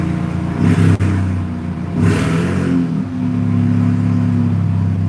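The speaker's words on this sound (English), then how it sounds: "couple baby revs for you" Jeep engine being revved a couple of times while still stationary before its first drive, loud and close: two short throttle blips rise and fall over a steady idle that settles into a continuous hum.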